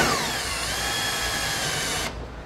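A power drill bites into a trailer I-beam steel frame during RV suspension installation, a loud continuous whine with slowly shifting pitch that cuts off sharply near the end, leaving faint room noise.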